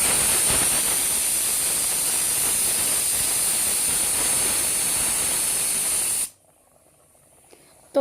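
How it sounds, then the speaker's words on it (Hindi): A pressure cooker cooking rice lets off loud, steady hissing steam with a high whistling edge for about six seconds, then cuts off abruptly into near silence. "बस इसको अब मैं ढक्कन लगा के रख देती हूँ और सिर्फ 2 सीटी लगेगी और ये बन जाएगा।"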